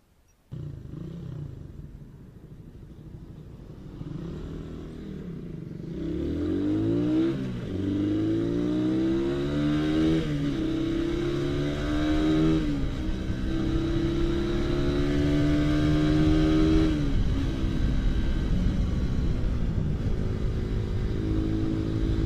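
A Raider 150 motorcycle engine, fitted with a quick throttle, revs up sharply from idle and holds a loud, rising roar with several throttle blips close by, no one talking.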